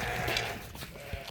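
A sheep bleats close by among a flock of ewes and a ram at a livestock market, a single drawn-out call with faint farm background noise.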